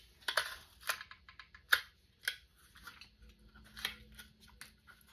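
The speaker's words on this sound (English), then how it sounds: "You can cut it out with scissors as well." Crisp snips of scissors cutting paper, close up, in a slow irregular series of separate cuts against a quiet background.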